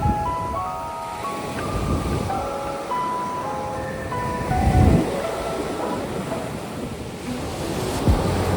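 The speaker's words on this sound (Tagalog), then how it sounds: "Ang lakas-lakas ng alon." Steady roar of strong surf and wind at a beach in La Union, Philippines, with a heavier wave crash building midway and washing through, while faint melodic chimes drift in the background.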